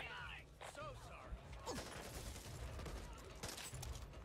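Gunfire in the zombie shooter Back 4 Blood, a dense spread of shots and impacts running throughout at steady loudness, mixed with game clatter and no clear talk.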